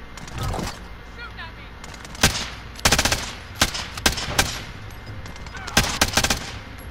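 Gunfire rings out during a Call of Duty: Modern Warfare match, with loud, sharp shots and short bursts landing at irregular moments. Voices talk over the fighting the whole time.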